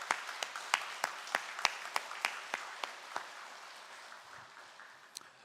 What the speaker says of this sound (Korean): 우리가 따뜻한 박수로 한번